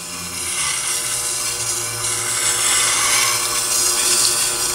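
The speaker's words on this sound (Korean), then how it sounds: "연마 작업 시 소음도 별로 안 크죠?" Triton sharpener grinding a grass trimmer blade, a continuous high whirring grind with gritty metal rasp, steady and close throughout with no talk.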